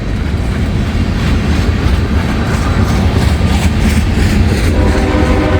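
An NC-15T yard switcher locomotive passes close by with a steady, loud rumble of engine and rolling wheels, holding at one level throughout without any voices.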